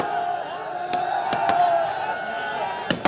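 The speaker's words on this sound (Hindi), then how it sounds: "युवा उनके स्वागत के लिए पटाखों की बौछार कर रहे हैं।" At Hanuman Hostel in Jodhpur, youths set off firecrackers to welcome a politician. About five or six sharp bangs go off at irregular intervals over a steady hum of crowd noise.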